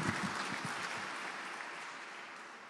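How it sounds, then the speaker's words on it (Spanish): Audience at a Supreme Court lecture session applauding to welcome the OAS Secretary General, a steady moderate clapping that fades slightly over a few seconds, somewhat distant in a hall. "Lo recibimos con un voto de aplausos al señor secretario general"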